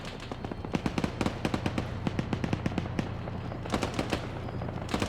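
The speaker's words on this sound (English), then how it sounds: "They're firing tank shells at the Huey." Rapid gunfire and explosive shots in a military video game with a helicopter under attack, sharp cracks repeating densely and irregularly throughout, loud and close.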